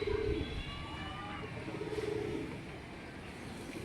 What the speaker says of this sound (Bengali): এটি হলো ফিমেল পায়রা